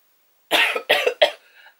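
Three quick, rough coughs follow one another closely, the last trailing off into a faint breathy tail, close to the microphone with silence around them and no talk.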